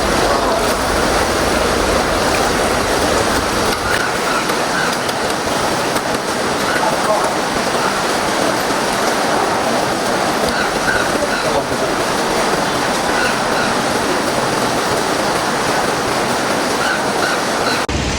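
Heavy rain pours down at a mosque in Yangon, Myanmar, a loud, dense, unbroken hiss filling the whole stretch without letting up.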